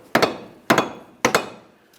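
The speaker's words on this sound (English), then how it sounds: "For this, I'm using a rubber mallet." Three sharp, heavy blows from a rubber mallet against a rear wheel bearing and hub assembly on a 2007-2017 Jeep Patriot, evenly spaced about half a second apart, each a doubled thud that rings briefly. The strikes are close and loud, and no one speaks.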